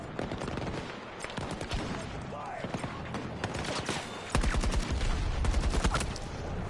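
Rapid bursts of video game gunfire crackle in quick repeated volleys, loud and up close, while a player talks over the shooting.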